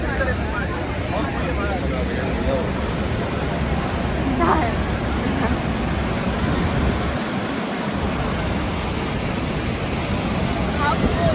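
Steady roar of ocean waves washing continuously, loud and broadband, with no distinct breaks between surges.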